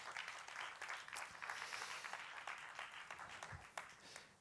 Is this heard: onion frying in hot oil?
no